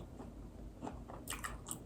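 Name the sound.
biting crunchy bread with oysters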